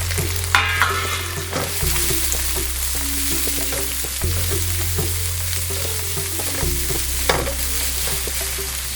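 Chopped onions sauté in a hot kadai, a steady bright sizzle broken by scraping stirs and occasional clinks of the spoon, with a low electrical hum underneath and no voices.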